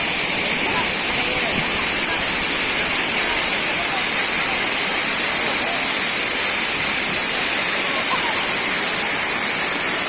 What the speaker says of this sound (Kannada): ನೋಡಿ ಫ್ರೆಂಡ್ಸ್, ಸಾಥೋಡಿ ಫಾಲ್ಸ್ ಎಷ್ಟು ಸೂಪರ್ ಆಗಿದೆ ಅಂತ